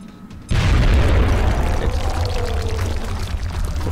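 A frag grenade detonates in the XCOM Enemy Within Long War mod, a sudden loud boom at about half a second followed by a sustained low rumbling roar that fades only slightly.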